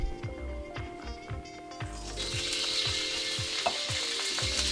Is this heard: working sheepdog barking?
no